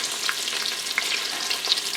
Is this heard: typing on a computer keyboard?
no